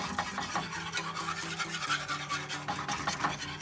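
A whisk scrapes briskly through a feta cheese sauce for spaghetti with Greek meatballs, producing steady, close rhythmic rasping strokes with no talking.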